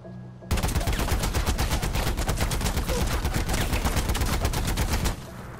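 Rapid, continuous automatic gunfire from Far Cry 4 rattles for several seconds at a steady pace, then cuts off abruptly, with a game-like, processed quality.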